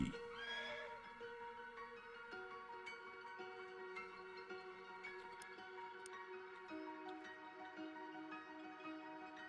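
Horse whinny in the video game Shadows Over Loathing: a bright, shaky neigh rises and falls in the opening second, then sustained game music tones carry on with faint clip-clop hints.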